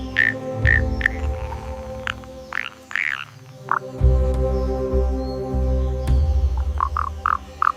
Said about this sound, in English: He tunes his call, searching for the perfect resonant frequency